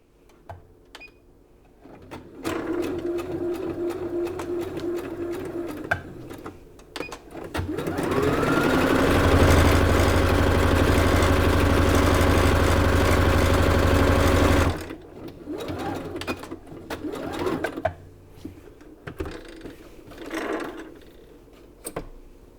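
A rethreaded sewing machine stitching fabric runs in a loud, steady mechanical whir for several seconds, with shorter starts and stops around it.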